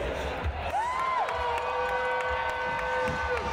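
A roller derby crowd roars with cheering and scattered whoops, a steady wash of voices with whistle-like tones rising over it, while a voice talks within the noise.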